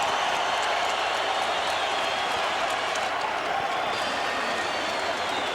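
A boxing crowd at the Staples Center in Los Angeles cheers and applauds in a continuous, dense roar of clapping and voices that holds at an even level throughout.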